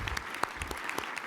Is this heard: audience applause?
yes